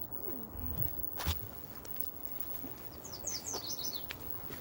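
Outdoor Canadian birdsong on a mountain walk, with a low cooing call early on and a quick series of high, fairly distant chirps later, set against steady quiet ambience and a single soft thump.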